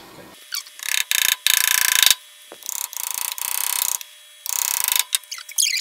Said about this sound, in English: I'm gonna nail this down in each of the corners